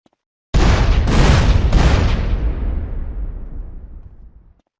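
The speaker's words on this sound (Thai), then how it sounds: "โดยการยิงเครื่องปั่นไฟ ทำให้มันระเบิด" A generator explodes in the video game GTA San Andreas Definitive Edition: a loud, booming explosion bursts out suddenly, with a few rumbling follow-up blasts, then a long roar that slowly fades away.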